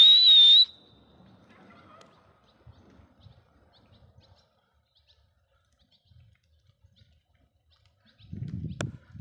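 A loud, bright whistle rings out briefly at the start, followed by quiet rustling and a burst of low noise near the end.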